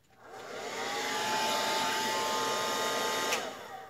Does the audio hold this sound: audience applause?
no